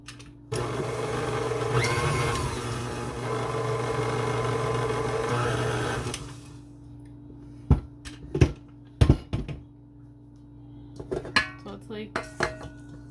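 An electric stand mixer with a paddle churns Oreo truffle filling on a low setting, a steady whirring motor for about six seconds, then stops, leaving scattered clinks and knocks of utensils against a bowl.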